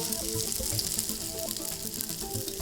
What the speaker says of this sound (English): Our oil is nice and hot. Beautiful. Oh, it's all about the sizzle.